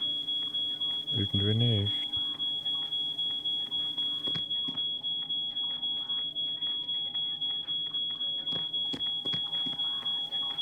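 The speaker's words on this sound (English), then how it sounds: "can we just switch off that alarm?" An alarm in the She Could Fly escape game beeps steadily as a sustained high electronic tone with faint regular pulses, while several people talk and move around under it.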